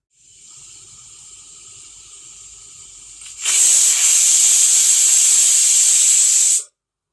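A pressure cooker whistle shrieks as steam vents while mutton biryani cooks, starting as a steady hiss and then bursting into a loud, sharp, sustained whistle for about three seconds before cutting off abruptly.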